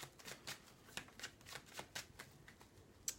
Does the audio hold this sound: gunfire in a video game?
no